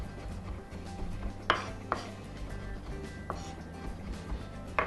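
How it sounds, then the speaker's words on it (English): A knife dices an onion on a board with a hands-free roll cut, a handful of sharp, widely spaced chopping knocks standing out over a low steady kitchen hum. "to make a finer dice, we're going to use a hands-free roll cut"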